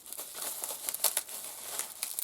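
Paper crinkles and rustles as a well-wrapped parcel is unwrapped by hand, close and fairly quiet, in uneven bursts of crackling with brief pauses between them.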